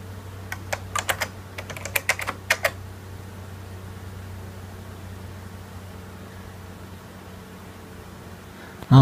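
A short burst of quick clicks on a computer keyboard in the first few seconds, then only a low steady hum of background noise.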